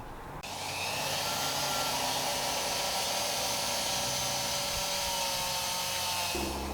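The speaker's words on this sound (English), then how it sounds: "I'm going to change to a clean polishing pad and then buff the rest of this out." A polishing pad buffs an engraved coin, a steady whirring hum with a high hiss that starts sharply and holds loud and even throughout, easing off at the very end.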